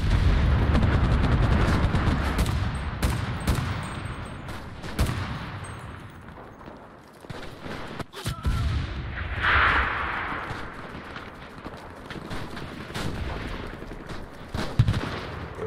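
FG-42 sniper rifle firing in the WWII shooter Enlisted, with sharp gunshots in a loud, dense battle soundscape of distant gunfire and explosions, the cracks scattered irregularly through the scene.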